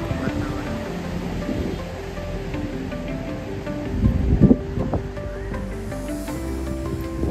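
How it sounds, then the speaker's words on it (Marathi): Steady wash of sea waves on a seashore in cool wind, a continuous broadband roar with a brief louder surge midway, no voices. "समुद्र किनारा, थंड हवा,"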